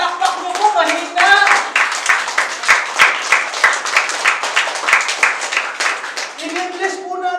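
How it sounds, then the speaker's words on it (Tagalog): A church congregation claps in a steady rhythm for several seconds, loud and close, with voices calling out at the start and end. "Palakpakan natin ang Panginoon."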